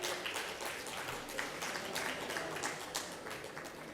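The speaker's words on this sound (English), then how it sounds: "A round of applause, ladies and gentlemen." Audience applause at an international autism conference before a Q&A panel, a steady crowd clapping heard from a distance and moderately faint, with no talk over it.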